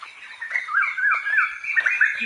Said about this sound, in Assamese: কেনেকুৱা চৰাই কান্দি আছে